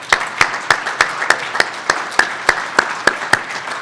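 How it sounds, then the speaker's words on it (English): A small audience claps at a university hall of fame and distinguished alumni ceremony, producing a thin, evenly paced round of applause with distinct individual claps repeating at a regular rhythm. "let's give another round of applause"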